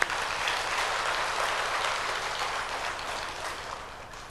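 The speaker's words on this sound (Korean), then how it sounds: "우리 하나님께 영광의 박수" A church congregation at a Sunday service breaks into sustained applause, a dense, even wash of many hands clapping that stays steady and fairly loud before easing slightly at the end, with no voices over it.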